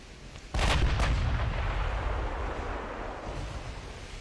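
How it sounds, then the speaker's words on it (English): A warship's ammunition magazine detonates in the naval combat game Ultimate Admiral: Dreadnoughts, one sudden loud booming blast with a second quick thump, then a long rumbling roar that slowly fades. "we got an ammo detonation on that one."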